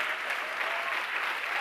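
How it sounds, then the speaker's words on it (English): Audience clapping at a spiritual discourse, a thick continuous burst of applause from many hands, steady and close throughout. "I love to hear these claps"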